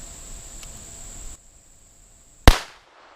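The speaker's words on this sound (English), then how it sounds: "So let's see what a 22 long rifle will do to it." A single sharp gunshot from a .22 Long Rifle fired at a game console, a loud crack near the end with a short decaying tail after a quiet pause, following a steady insect-like high whine.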